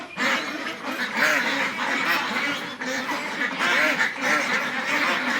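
Meat ducks, including the Vigova breed, quacking in a flock, a steady chorus of overlapping nasal quacks close by, continuous and fairly loud with no pauses.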